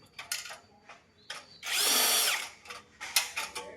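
A power tool backs screws out of a gas geyser burner in short buzzing bursts, then one sustained high whine of about a second, followed by more brief bursts and small clicks, all close up.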